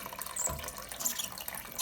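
Water runs into a toilet cistern during a siphon replacement, a steady close hiss and trickle of filling with no voices.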